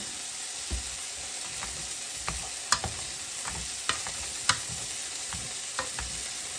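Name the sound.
mashing potatoes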